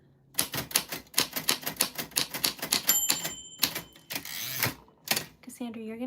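A typewriter clacks out a fast, steady run of loud close keystrokes, then a louder carriage movement and a ding-like clatter, and a voice comes in at the very end.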